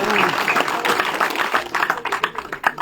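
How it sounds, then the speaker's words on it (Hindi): Crowd applauds a new member joining the BJP at a party event in Jammu and Kashmir, dense clapping throughout with voices talking and calling out over it. "तालियों से इस्तकबाल करें।"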